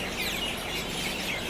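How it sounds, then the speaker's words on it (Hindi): Pigeons and sparrows chirping at a railway station, a dense steady chatter of many birds close by with no talk. "पक्षियों की आवाज़ चेक करो, बहुत ही बढ़िया"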